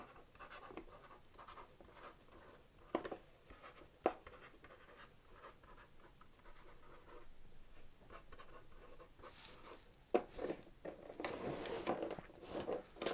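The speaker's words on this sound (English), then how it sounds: "we're also gonna write on the container." A marker squeaks and scratches across a plastic winter-sowing container in short, faint, irregular strokes, with a few louder bursts of scribbling near the end.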